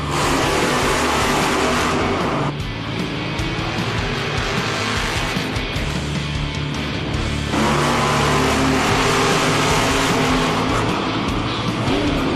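Monster trucks racing side by side in a Monster Jam arena event in Kansas City, a loud continuous engine roar that dips briefly and surges back, with crowd noise and a faint announcer voice underneath.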